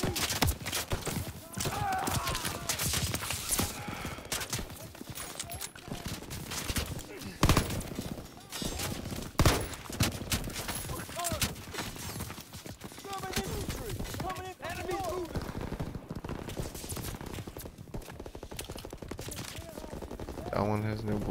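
Gunfire in the Call of Duty WWII D-Day campaign on Xbox One: repeated sharp shots and rapid bursts, some near and loud, scattered irregularly over dense battle noise with voices mixed in.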